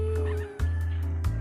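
A faint cat meow, from a breed cat kept at a rural Filipino home, rises briefly over a steady background hum.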